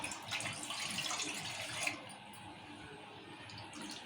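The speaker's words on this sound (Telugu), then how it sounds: "గిన్నె పెట్టుకొని ఇప్పుడు నీళ్ళు పోసుకోవాలి" Water is poured into a cooking pot in a home kitchen to make rice-flour papad dough. A close, steady rushing pour runs for about two seconds, then quieter trickling follows, with no talking.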